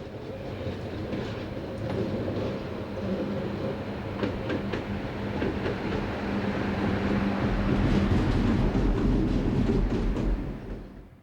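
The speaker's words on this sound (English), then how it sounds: "locomotive 3110 moves off the stabling point just to the north of the station" Danish locomotive 3110 pulls away from a stabling point north of a station to haul a freight train, giving a steady rumbling roar with rhythmic rail clatter that swells and then drops off sharply at the end.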